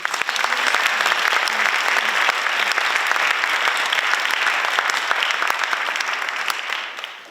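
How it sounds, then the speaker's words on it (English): A large audience at a National Honor Society induction ceremony gives a loud sustained round of applause for the speakers, a dense even roar of clapping that holds steady and then tapers off at the end. "If we can have another round of applause for the speakers"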